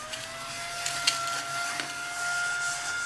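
A vacuum cleaner runs continuously over a work surface during book repair, giving a steady, loud whining motor drone with a few light bumps and clicks as debris gets sucked up.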